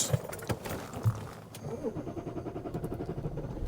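A Land Rover diesel engine cranks over after a few clicks and knocks, then settles into a steady, rough idle with a rhythmic low chug.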